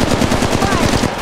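Rapid automatic weapon fire from the mobile shooter Apex Legends Mobile, a fast, evenly spaced burst of loud shots filling the whole moment without pause.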